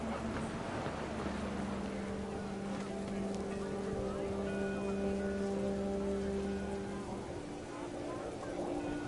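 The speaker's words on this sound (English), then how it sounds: "The rain came down in buckets then" Heavy rain pours down steadily in the game What Remains of Edith Finch, a constant loud wash of noise with low tonal music sustained underneath.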